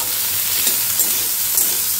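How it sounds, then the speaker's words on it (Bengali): Bitter gourd slices frying in oil tempered with mustard seeds give off a steady, close sizzle, with soft stirring scrapes now and then and no voices. "আমি উচ্ছে ভাজা করছি সর্ষে ফোড়ন দিয়ে।"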